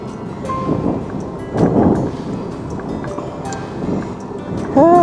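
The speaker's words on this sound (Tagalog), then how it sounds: "Pero malakas ang headwind." Strong headwind on a cyclist riding a road in Thailand produces constant rumbling wind buffeting against the microphone, with gusts that swell and fade throughout.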